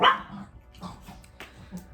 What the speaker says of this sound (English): And now the dog's seen it.